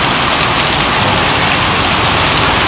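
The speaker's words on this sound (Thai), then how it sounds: "ลมไม่แรงครับฝนตกแรง" Heavy rain pours down on the first day of the rainy season with little wind, a loud, dense and steady hiss of falling water that fills the whole stretch without talk.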